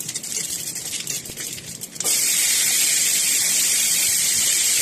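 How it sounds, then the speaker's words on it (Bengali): Dried red chillies, cumin, nigella, fennel and radhuni seeds hit leftover hot oil with a sudden loud, steady hiss and crackle that starts abruptly partway through and keeps going, close up, after a few quieter clinks. "এবার ওই বাকি তেলে আমি শুকনো লঙ্কা ও জিরে ফোড়ন দেব।"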